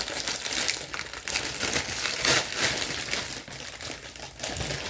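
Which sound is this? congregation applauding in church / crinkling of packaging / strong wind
crinkling of packaging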